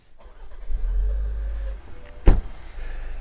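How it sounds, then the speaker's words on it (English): Push-button start of a 2025 Buick Enclave Avenir: a low engine crank rising into a rumbling idle, then a short sharp blip settling back to a quiet hum. "First thing I'm going to do actually is start the car"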